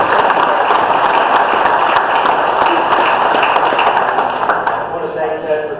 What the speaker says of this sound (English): Let's give him a round of applause, folks.